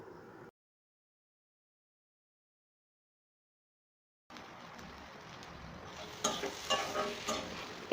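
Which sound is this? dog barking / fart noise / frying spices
frying spices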